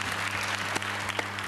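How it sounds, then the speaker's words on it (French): Audience applause at a guest appearance by Véronique Jannot, a steady wash of clapping hands running the full length of a short burst, with a low hum beneath and a couple of sharper claps standing out. "on va applaudir alors"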